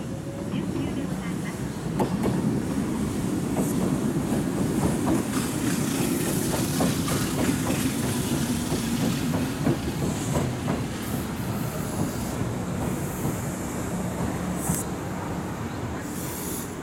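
A Kintetsu train bound for Abenobashi rumbles and hisses steadily at Shakudo Station platform in Japan, with faint rhythmic clatter and Japanese station announcements over the continuous rail noise.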